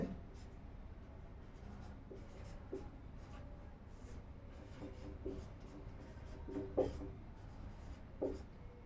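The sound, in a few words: writing the next line of text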